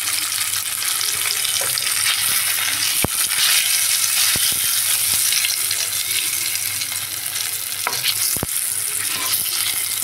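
Potatoes and eggs fry in oil with a loud, dense sizzle that runs throughout, broken by a few sharp clicks of a utensil on the pan.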